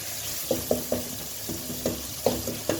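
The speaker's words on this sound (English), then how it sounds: "So for spices, it's going to cook like for 1 minute." Spices frying in a pot while githeri is made, a steady broadband sizzle with several soft, evenly spaced knocks of a spoon against the pot, close and moderately loud, no voices.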